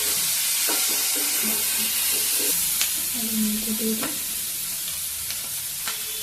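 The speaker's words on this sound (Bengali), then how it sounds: "তো একটু নুন দিয়ে দিলে এবারে ভালো করে সবগুলোকে ফ্রাই করে নিই।" Onion, capsicum, ginger and garlic frying with a little salt in a pan for a chicken dish, a loud, steady sizzle with scraping stirs and light utensil clicks throughout.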